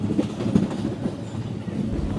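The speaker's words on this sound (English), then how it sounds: "I'm on the train." Inside a moving train, a steady low rumble of wheels and carriage fills the space, with faint rattles and clacks in an uneven rhythm, close and continuous.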